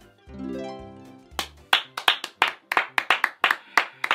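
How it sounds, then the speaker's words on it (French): Clapping for Jérémy: after a sustained tonal voice-like sound at the start, a run of sharp, fairly regular hand claps from a few people follows, close and moderately loud. "Faut t'applaudir Jérémy"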